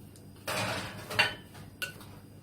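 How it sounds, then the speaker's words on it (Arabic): Liver and bran-mix ingredients stirred together in a bowl, giving soft scraping clinks of a utensil against the bowl in a few short bursts, fairly close and quiet, with no talking. "هقلب كل المكونات على بعض كده زي ما انتوا شايفين كده"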